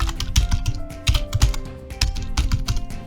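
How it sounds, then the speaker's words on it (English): Single-finger typing on a computer keyboard: close, uneven clusters of key clicks with short pauses between bursts, clear and without talking. "I am a single finger typer, so well, I do these fingers."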